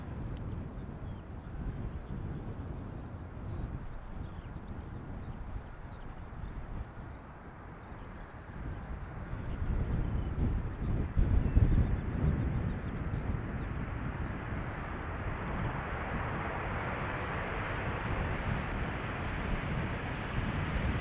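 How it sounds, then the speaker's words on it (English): A KLM Boeing 737-800 on approach to Amsterdam Schiphol runway 18R, its roar building from a low rumble into a loud, broad whoosh as it passes near, with some wind noise on the microphone. "So now coming in is KLM flight 1002. It is a 22-year-old Boeing 737-800 inbound from London Heathrow."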